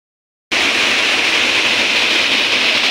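A waterfall at Shivdav village in the Konkan forest pours water in a loud, steady, close roar that starts abruptly after a brief silence.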